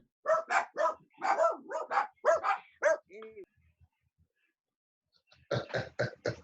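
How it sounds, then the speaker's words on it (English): Dogs bark in a quick burst of several sharp, close yaps with a cough-like bark, then fall silent before another run of barking near the end, heard alone without talk. "the dogs are barking"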